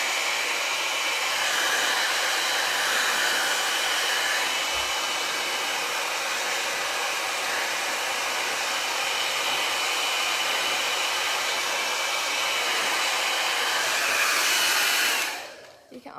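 A Le Volume 60 mm 2-in-1 volumizing brush dryer blows on medium heat with maximum airflow through short curly hair, giving a loud, steady, close whoosh that runs unbroken before cutting off at the end.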